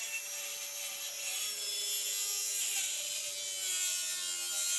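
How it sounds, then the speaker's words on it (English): A saw cuts a wooden log cabin board to length, producing continuous, close, bright rasping strokes with no pauses and no talking. "the first step you want to do is you want to cut this board to the proper length"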